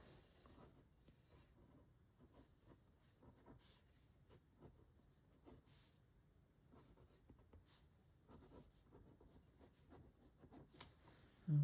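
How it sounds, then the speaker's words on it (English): A pen writes names into a teacher lesson planner, with faint, close scratching strokes in short bursts and small gaps, ending in a louder bump. "So I'm gonna write both of our names here."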